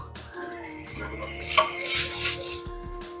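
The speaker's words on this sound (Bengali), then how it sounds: "একটা পিঠ ভাজা হয়ে গেলে আর একটা পিঠ উল্টে দেব।" Puli pitha, a Bengali stuffed dumpling, frying in a pan, with a steady sizzle swelling in the middle and light scrapes and clinks of a utensil against the pan, close by.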